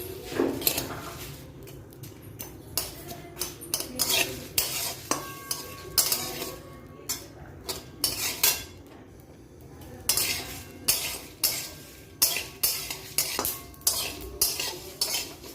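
A homemade roasted spice mix with black salt is stirred in a dry pan, the spoon scraping and clinking against the metal in irregular bursts over a faint background sizzle.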